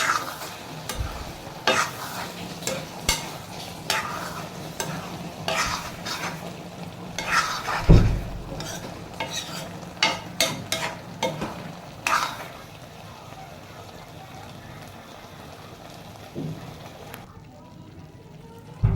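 Fish and eggplant sizzle in a pan while a utensil repeatedly scrapes and clanks as it stirs, with one louder knock midway; the frying quiets toward the end.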